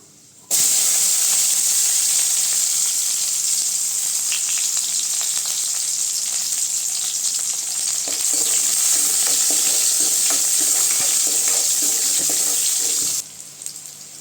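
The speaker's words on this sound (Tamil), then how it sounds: "வெங்காயம் நல்லா வதங்கிடுச்சுங்க" Onions sauté in a pan of hot oil already tempered with mustard seeds and dried red chillies, producing a loud, continuous hissing sizzle with scattered crackles and stirring scrapes for over twelve seconds, then cutting off abruptly.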